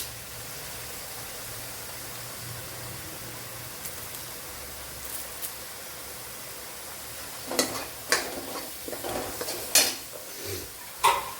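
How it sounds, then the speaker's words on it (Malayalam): Curry leaves dropped into hot oil in a pan, starting as a soft background hiss and then breaking into a run of sharp crackles and spatters with a few stirring scrapes toward the end. "കറി ലീവ്സ് ഇട്ട് കൊടുക്കാം."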